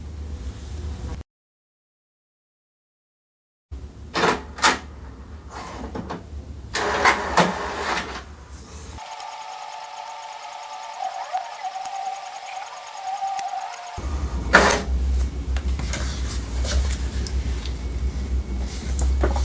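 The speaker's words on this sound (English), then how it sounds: "So this is the photo that was printed on the HP DeskJet 4220E printer." An HP DeskJet 4220e inkjet printer printing a photo, with whirring motor starts, clicks and paper-feed mechanics, a steady buzzing print pass in the middle, then more rattling feed noise, close and fairly loud.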